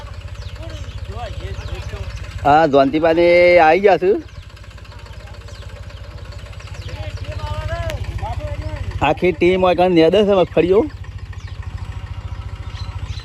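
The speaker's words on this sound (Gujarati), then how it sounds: "ખેતરમાં ટ્રેક્ટર આવી ગયું છે" A tractor engine runs with a constant low throb in a peanut field, staying steady beneath two stretches of loud nearby talk.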